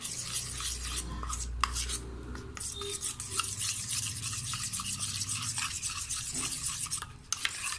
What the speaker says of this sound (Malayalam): അത് ഞാനിതാ ഒരു പാത്രത്തിലേക്ക് ഇട്ടിട്ട് കുറച്ച് വെള്ളം ഒഴിച്ച് അതൊന്ന് മിക്സ് ചെയ്ത് വയ്ക്കാം.